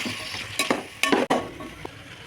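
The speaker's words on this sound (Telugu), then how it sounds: "బాగా కలుపు" Meal maker (soya chunk) veg pulao stirred in a pan, with a few distinct scraping strokes over a steady sizzle of frying and occasional light clinks of utensil against metal.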